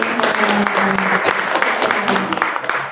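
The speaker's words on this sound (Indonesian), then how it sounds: "Tepuk tangan dong" A talk show audience at a vocational high school applauds loudly, a full, close wash of many clapping hands that runs steadily for a few seconds with little variation.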